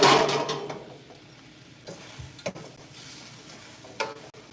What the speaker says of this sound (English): Let me stir this up, okay?